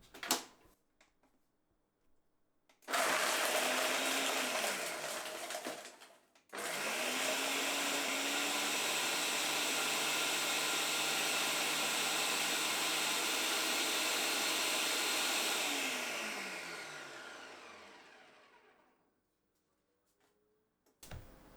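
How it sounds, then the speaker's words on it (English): A kitchen blender whirs through an avocado smoothie with coffee in two runs, a short burst and then a long steady drone that slowly winds down to silence. "Now let's blend it up."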